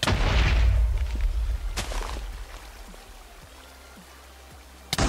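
Industrial TNT detonating in Minecraft: a big rumbling blast up front that fades into scattered debris crackles and settling noise, then a sharp thump right at the end, with no talking.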